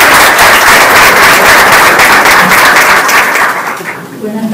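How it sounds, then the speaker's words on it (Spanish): Loud audience applause at a public event in Colombia where a regional assembly candidate and indigenous authorities sign an agreement, a dense continuous wall of clapping that fades slightly at the close. "Un fuerte aplauso para ella, por favor."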